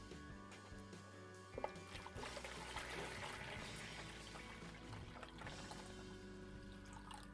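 Hot water is poured into a shave bowl, making a faint, steady splashing and trickling pour that lasts several seconds, close up and with no voices.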